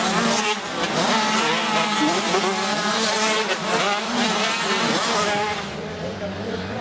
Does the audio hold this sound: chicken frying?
no